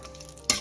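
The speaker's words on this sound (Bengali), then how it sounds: "তো এবার দিয়ে দেবো কাজু কিশমিশটা ভাজা করে নেবো একটু।" Cashews and raisins frying in ghee over a low flame for a festive yellow pulao: a faint soft crackle, then a brief louder sizzling burst as something stirs or drops into the pan.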